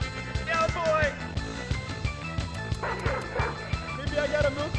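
A video game dog barks and yips repeatedly in quick bursts, with a whimpering tone mixed in, layered over game music and sound effects while a person talks.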